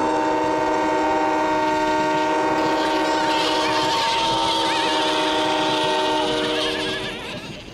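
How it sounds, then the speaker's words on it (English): Several toy train whistles blow together in a sustained, loud, layered chord that wavers slightly before fading at the end, with no talking. "Let's make the sheep scatter by blowing our whistles together!"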